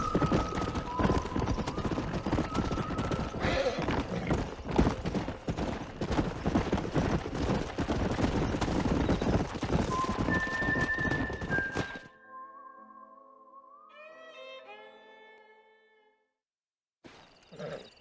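Horse hooves clip-clop in the Xbox 360 game Red Dead Redemption, a steady close rhythm of hoof strikes with occasional whinnies for about twelve seconds, then it cuts out and a few sparse game tones follow.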